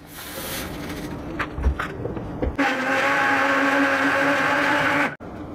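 A regular kitchen mixer grinder powders granulated sugar, its motor starting at once and then holding a loud, steady whine for a few seconds before cutting off abruptly, after some softer handling noises at the start.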